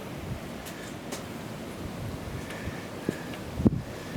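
Steady wind rushes and buffets the microphone throughout on the middle Yukon River while snowing, with occasional faint knocks and rustles, and no one speaking.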